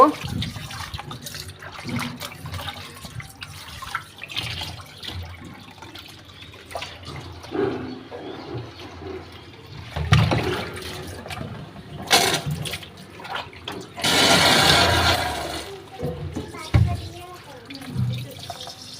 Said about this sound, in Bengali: তো এখন আমি এগুলো সুন্দর করে ধুয়ে পরিষ্কার করে নেব।